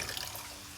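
Water runs steadily from a tap into a pot for heating, with a soft hissing splash, faint and brief, no voices.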